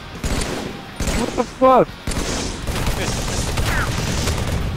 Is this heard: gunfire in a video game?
yes